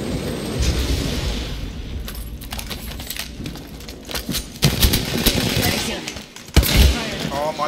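Apex Legends gunfire in rapid bursts and sharp cracks, several shots close and loud amid metallic clatter and impacts, with a player speaking over parts of the fight.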